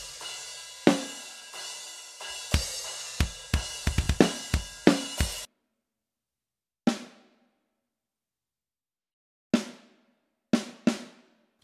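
Triggered snare drum sample from the Snare Arsenal library in Cubase, first a quick run of sharp cracking hits with ringing tails, then, after a silent gap, a few isolated hits with clean decays.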